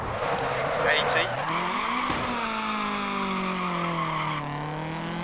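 A rally car in DiRT Rally 2.0 on a German stage revs hard through corners, its engine pitch climbing and dropping as the tyres squeal in a sustained skid, with someone talking over it.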